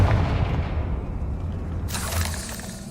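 The Confringo fire spell in Hogwarts Legacy sets off a loud, close booming explosion with a shattering burst, followed by a rumbling tail and a brighter crackle that arrives partway through.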